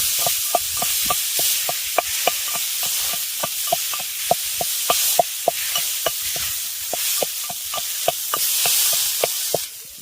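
A metal masher thumps steadily through boiled potato, peas and cauliflower in a kadai, about two to three regular, close strikes per second over a faint sizzling hiss.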